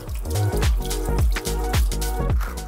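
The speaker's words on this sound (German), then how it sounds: "Gründlich unter fließendem Wasser waschen." Leek rinsed under a running kitchen tap, close splashing and dripping water with rhythmic squishy pulses as the fanned leaves are worked under the stream, no talk.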